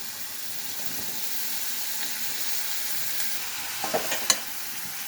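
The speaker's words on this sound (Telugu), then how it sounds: "ఈ విధంగా ఉల్లిపాయలను ఫ్రై చేసుకోవాలి. కొంచెం గోల్డెన్ బ్రౌన్ వచ్చే వరకు వీటిని వేపుకోవాలి." Onions and spices frying in oil in a pressure cooker, with a soft, constant sizzle and a few sharper crackles and a utensil clink near the end.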